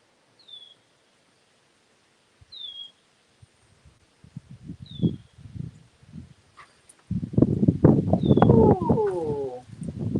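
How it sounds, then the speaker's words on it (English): Gusty wind roars outdoors in rising bursts, growing loud and broadband near the end, with a few faint bird chirps early on. "Oh, that's really windy."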